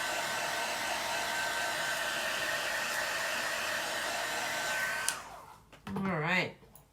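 A hair dryer blows steadily and loudly at close range while drying a chalk craft transfer, a constant whooshing roar with a faint whine that cuts off abruptly near the end. A short burst of speech follows.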